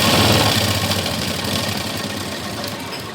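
A sewing machine runs steadily while stitching a blouse, giving a close, fast mechanical whir with a rapid needle rhythm that stays even and then eases slightly toward the end.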